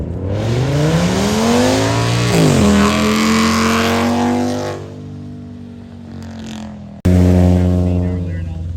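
A 2011 Audi S6 at a drag racing event revs hard, its engine note climbing and dropping through two loud bursts, with an announcer talking over it.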